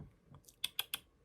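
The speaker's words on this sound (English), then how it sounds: "he's typing on the computer now." A pet walking across a computer keyboard, producing three quick, sharp key clicks in a row after a couple of softer taps, fairly close and otherwise quiet.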